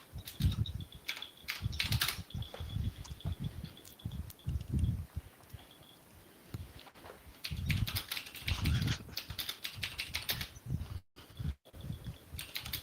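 Rapid, quiet keystrokes on a computer keyboard clatter in irregular bursts with short gaps, close but soft, during a live trading session.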